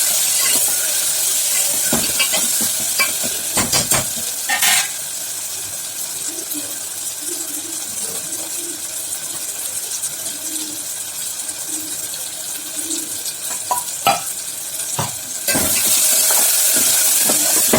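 Onions frying and being stirred in a pan for mutton biryani: a continuous soft sizzle with occasional scraping and clatter of the stirring spoon, fairly close, without speech.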